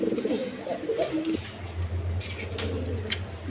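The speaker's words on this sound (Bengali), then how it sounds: "এইখানে এক পেয়ার খাকি কবুতর আছে, দেখেন কোয়ালিটি সম্পন্ন কবুতর।" A pair of khaki pigeons coo softly at a pigeon farm, with a few close, low coos early on, followed by a steady low hum in the background.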